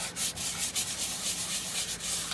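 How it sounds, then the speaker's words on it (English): A brush scrubs the leather seat of a Mercedes SL55 in quick, close back-and-forth strokes, producing a rhythmic rasping swish with no voices. "So just carry on giving it a good old scrub"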